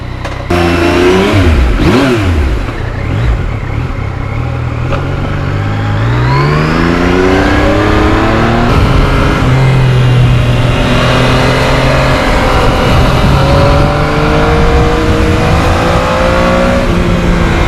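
A Yamaha MT-09 motorcycle engine revs hard while riding on a hot day, loud and close, climbing through gears in rising sweeps with brief dips between shifts, sustained throughout.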